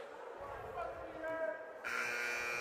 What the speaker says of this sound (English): Well, there's the buzzer.